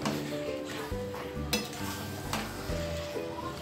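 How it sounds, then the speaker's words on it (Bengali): Chicken and potato pieces sautéing in a pan for a Bengali chicken-potato curry, an even close sizzle with a spatula scraping and metal clinking against the pan, no one speaking. "এর মধ্যে আলুগুলোও আমি দিয়ে দিয়েছি। এই যে আলু, এগুলো এর সাথে কষা হবে।"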